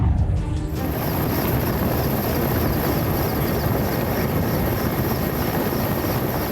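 Helicopter hovering low over a flooded stretch of the Manjara river in Latur district during a rescue of three stranded people, a steady loud rotor roar filling the whole stretch without pause.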